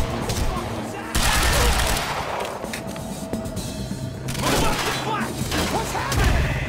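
Rapid bursts of gunfire from a firefight in the video game Quantum Break, loud and sustained with heavy thuds and a surging volley, mixed with shouted voices.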